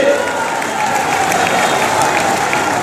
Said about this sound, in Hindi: एक बार तालियां बजा करके बंदन अभिनंदन करेंगे